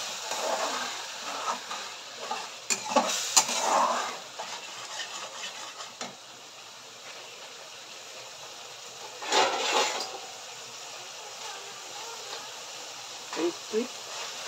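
Fish curry masala is stirred in a pan after water goes in, giving a low bubbling hiss with scattered scrapes and clanks of the spoon against the pan, while a person speaks quietly over part of it.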